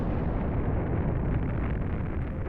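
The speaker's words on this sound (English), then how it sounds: "This is a supernova, the brightest explosion in the universe." Sustained roaring rumble of a supernova explosion sound effect, a dense, loud, continuous blast-like wash with no voices, holding steady before easing slightly toward the end.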